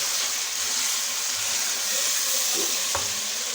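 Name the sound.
mutton frying with onions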